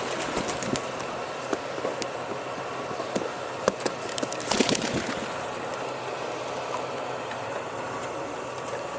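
Young pigeons let out of the loft, with bursts of wing flapping and wing claps over a steady background hum, plus faint coos, from nearby.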